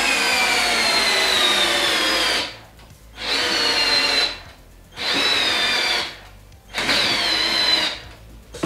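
A cordless screwdriver runs in a comparison test against a Makita, whirring loudly in four sustained bursts of a second or two each, separated by short pauses, with no talk during the bursts.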